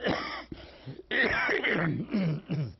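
An elderly smoker coughs and clears his throat in several rough, close bursts with short gaps between them, heard alone without talk.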